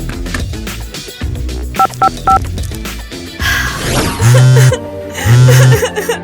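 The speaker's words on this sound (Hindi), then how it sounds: "चलो उसे फोन करते हैं, पता करते हैं ईवा है कहाँ" Telephone dialing tones sound as three quick, evenly spaced beeps amid lively background music and voices, followed by low thumping sounds.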